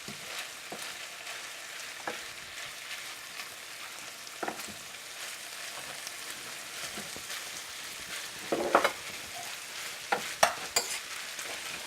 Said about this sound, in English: we're going to mix the sour cream into our noodles here